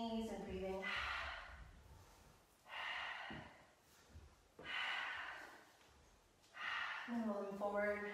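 Slow, audible breaths in and out during a yoga flow, each long exhale rising and fading in a steady rhythm, close to the microphone, with a voice speaking at the start and end.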